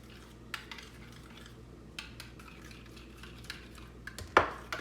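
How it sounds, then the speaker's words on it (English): A whisk works chutney into a bowl of yogurt for a chickpea wrap, giving soft, steady scraping with light metallic taps against the bowl and one sharper clink near the end, close and quiet. "And just kind of whisk that in there."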